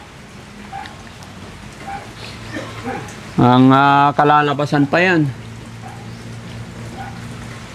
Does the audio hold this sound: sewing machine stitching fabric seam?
no